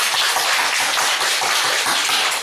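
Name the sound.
congregation clapping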